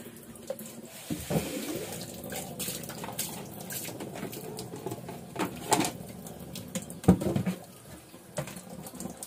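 Water runs from a tap into a filling container, a steady gurgling stream with occasional splashes and knocks, birds faint in the background.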